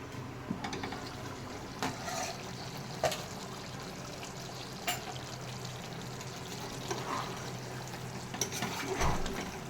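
Chicken being sautéed dry in a pan with no water added, a low continuous sizzle broken by repeated scraping and stirring strokes, close by and alone without talk.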